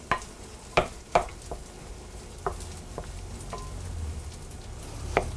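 Pierogi filling being mixed in a bowl: a few sharp clinks and scrapes of a utensil against the bowl, with soft stirring between them, close and fairly quiet, with no talk.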